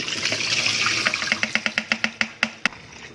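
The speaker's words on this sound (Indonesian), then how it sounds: "Ini setelah 1 jam direndam dengan air gula campur garam, sekarang akan saya tiriskan." Bitter melon that soaked an hour in sugar-salt water is drained, a steady wash of pouring water giving way to a run of close, regular drips and splashes that slow and thin out toward the end.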